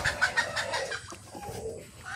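Chickens cluck softly in a backyard coop, a few short rapid calls near at first, then quieter scattered clucks over low ambient noise, with no talking.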